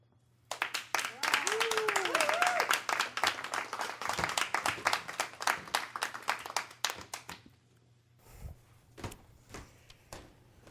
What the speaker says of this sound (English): let's give Tim a big round of applause as he comes up here